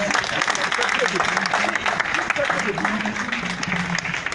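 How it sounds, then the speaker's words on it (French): Crowd applause at a political gathering, continuous clapping from many people with voices and shouts mixed in throughout, fairly loud and unbroken. "Il faut l'applaudir."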